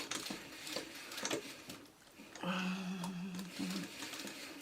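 A sewing machine runs in short bursts while stitching a Y seam on a fabric string basket, with a rapid, steady whir close by that stops and restarts.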